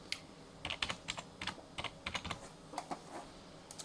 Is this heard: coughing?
no